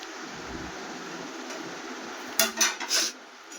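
Plates and utensils clatter in a short burst of a few knocks while pav bhaji plates are served, set against a steady background hiss.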